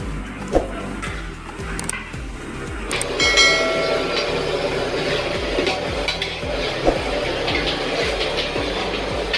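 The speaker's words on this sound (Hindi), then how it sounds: "बस हम इसको लगातार चलाते रहेंगे ताकि हमारा नीचे चिकन ना चिपके" Chicken biryani masala being stirred in a large pot for a Hyderabadi dum biryani for 100 people: a continuous rhythmic scraping and churning, with a louder sizzling wash joining after a few seconds.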